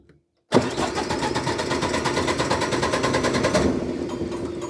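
An MEP 1040 generator engine cranks after a moment of silence, a loud, rapid, rhythmic chugging that runs for several seconds without settling into a clean idle.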